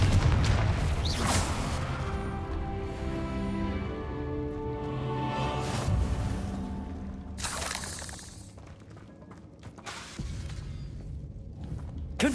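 Repeated Confringo fire-spell blasts in the Hogwarts Legacy video game, heavy booming and crackling bursts with shattering debris over a dense, loud game mix, several impacts spaced through the passage.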